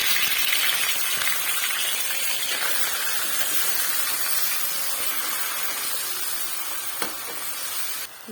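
Chicken frying in a pan as a ground paste of onion, tomato, ginger, garlic and green chillies is added: a loud, continuous close sizzle that eases slightly over time, with one brief utensil knock near the end.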